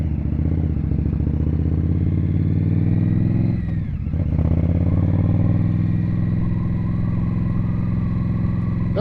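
Vintage motorcycle engine running at a motorcycle show, a loud close steady rumble with a brief dip and recovery midway, then holding a constant drone, no talking.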